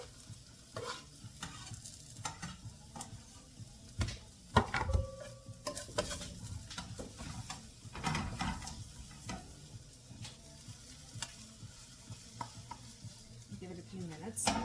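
Chopped garlic sizzling in a hot pan while being stirred for meatballs and green beans, a soft steady frying hiss broken by scattered clinks and scrapes of a utensil against the pan.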